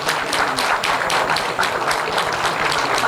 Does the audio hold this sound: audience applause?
yes